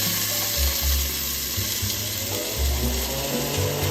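Onions sizzling in a mix of extra virgin olive oil and vegetable oil, a loud, close, dense crackling hiss that holds steady with low rumbles underneath.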